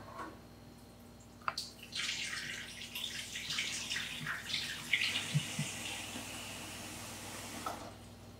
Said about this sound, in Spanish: Vamos a retirar el agua.